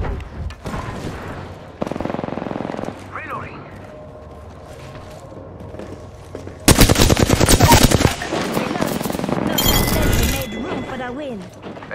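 Rapid automatic fire from an R99 submachine gun in the Apex Legends video game, with dense bursts of gunshots, a shattering clink, and in-game voices and effects around them.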